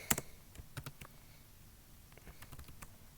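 Keys clatter on a computer keyboard during C++ coding practice, with quiet, close, irregular taps and a few sharper presses like the Enter key. The keystrokes come in short bursts with brief pauses.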